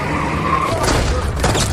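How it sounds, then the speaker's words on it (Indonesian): Several sharp gunshot bursts crack over a roaring car and screeching tires, loud and close, with a flurry of shots near the end. "Anggota geng yang semuanya mendengar tembakan tersebut langsung keluar dan menembaki mobil mereka."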